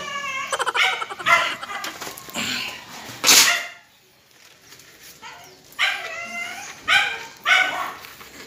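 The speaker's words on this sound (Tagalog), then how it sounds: "ingay ng aso" A dog yips and whines in short bursts close by, with a brief quiet pause in the middle before more whimpering barks.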